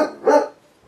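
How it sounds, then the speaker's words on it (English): A single sharp dog bark sounds close by, followed by a brief lower yelp that fades quickly. "Let's see what he's barking about."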